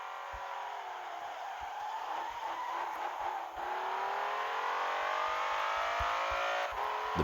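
A BMW M5 engine in the racing game Assoluto Racing revs hard and climbs steadily in pitch as the car accelerates, loud and continuous, with a brief dip around a gear change midway.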